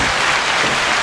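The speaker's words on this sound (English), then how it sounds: "Bad claps going on." Dense, steady clapping from a live studio audience at a podcast taping, loud and continuous for a brief moment with no voices.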